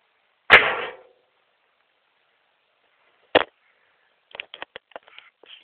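A mini airgun fires at roughly 85–90 psi from about two feet away. A sharp crack is followed a few seconds later by a pellet striking a tin behind the target, then a scatter of faint rattling ticks.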